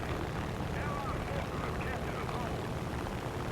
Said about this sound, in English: Plane's diving in now.